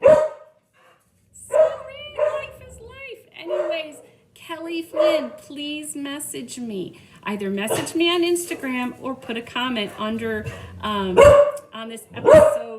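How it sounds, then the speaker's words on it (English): A neighbor's dog barks in sharp, loud bursts, several clustered near the start and more toward the end, cutting in around someone talking continuously. "I'm so sorry for the barking"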